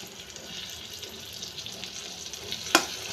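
Whole garam masala, cumin, green chili, chopped garlic and onion tempering in hot oil in a pan used to fry a fish head for mung dal, giving a steady close sizzle with one sharp click near the end and no talk.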